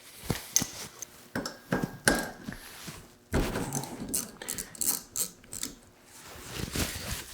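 A ratchet wrench loosens a 10 mm bolt on a Toyota Supra rear wiper, giving a series of close, sharp clicking and clunking bursts spaced irregularly, with quiet gaps between them.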